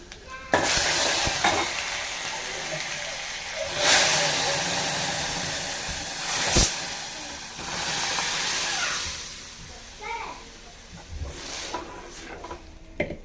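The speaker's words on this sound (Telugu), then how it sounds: "ఇదిగోండి తాలింపు వేగిపోయింది ఇప్పుడు పోపు పెట్టుకోవడమే" Tempering spices frying and sizzling in hot oil with stirring for bottle gourd dal, a loud continuous hiss with scraping surges and sharp crackles, no talking.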